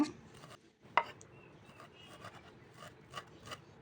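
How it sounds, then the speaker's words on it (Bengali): Fresh coriander leaves being finely chopped with a knife on a board, a quiet run of soft close taps with one sharper knock near the start, no talking. "ধনিয়া পাতাগুলোকে ভালো করে কুচি কুচি করে নেব"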